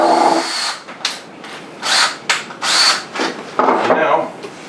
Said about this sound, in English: we're going to drill an oversized hole because we've got an oversized screw head